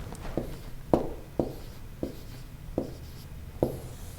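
A pen or marker writes out the number 6.283 during a geometry lesson on circle circumference, producing about seven short scratchy strokes at an uneven pace, close and fairly quiet.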